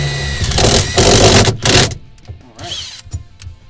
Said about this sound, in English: I could just drill a hole through it to start